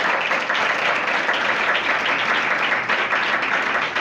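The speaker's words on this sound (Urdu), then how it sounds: "زوردار تالیاں اس کے لیے" Loud, sustained audience applause at a church gathering, a dense unbroken roar of clapping holding steady for about four seconds with no voice on top.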